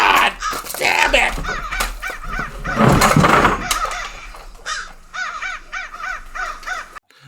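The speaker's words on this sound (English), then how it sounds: "The fucking crows!" Crows cawing in repeated harsh calls, loud and close, mixed with shouting voices and clatter early on, then a steady run of caws toward the end.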